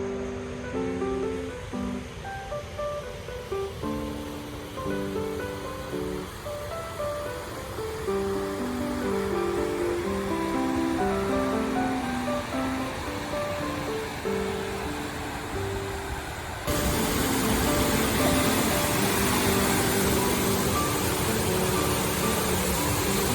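A powerful river rushes through Ala Archa National Park, making a steady, loud broadband roar that carries throughout and grows noticeably louder near the end.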